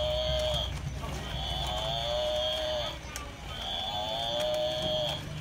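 Water buffalo calf and adult buffaloes lowing at a temple ground, long drawn-out moos repeating three times in close succession, fairly loud and near over a busy outdoor background.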